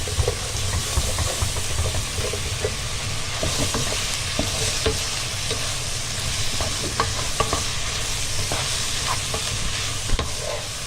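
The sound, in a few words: stirring onion in tomato sauce in a pan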